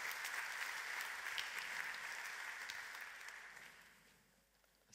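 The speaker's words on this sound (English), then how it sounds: "Let's give him a round of applause" Audience applause at a computer-aided verification conference after a talk, a steady wash of clapping hands from a room of listeners, fairly faint, fading gradually toward the end.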